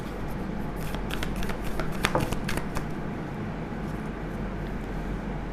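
Tarot cards shuffled by hand during a reading, a steady papery riffle with a few sharper flicks, close and continuous, over a low constant hum.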